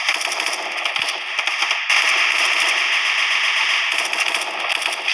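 Automatic gunfire in the shooter game Special Force 2 crackles in dense, rapid bursts that run almost continuously, loud and harsh, with a brief pause near the start and no talking.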